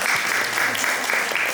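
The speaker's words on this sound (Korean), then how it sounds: "다시 한번 박수 부탁드릴게요" An audience claps for an artist at a gallery exhibition event, a dense steady burst of applause filling the short moment with no pauses.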